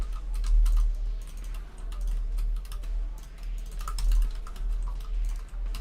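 Quick bursts of clicking on a new computer keyboard, close and fairly loud, keys clattering in uneven runs over a low hum, no speech.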